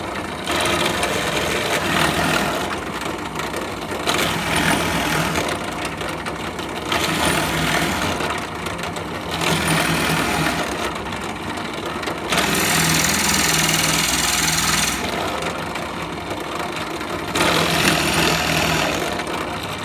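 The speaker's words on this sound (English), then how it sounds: "We can then put them in the old mini pillar drill." A small bench pillar drill boring into wood whines in several long bursts, each running a few seconds with pauses between, steady and close with a grinding edge.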